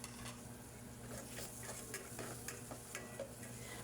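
Ginger and garlic sauté in margarine in a pan, with a soft, quiet sizzle broken by light scrapes and clicks from stirring. No one speaks.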